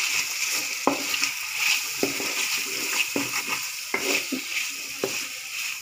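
Potatoes coated in red chili powder and turmeric are stirred in an oily pan over a soft, constant sizzle, with a spatula scraping and tapping the pan at irregular intervals.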